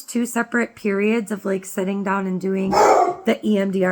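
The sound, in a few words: dog barking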